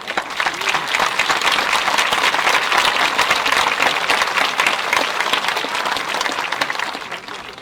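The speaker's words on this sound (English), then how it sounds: "Another round of applause." A graduation commencement crowd gives the concert choir a sustained round of applause, thick, even clapping from many hands that holds strong for several seconds before easing slightly toward the end.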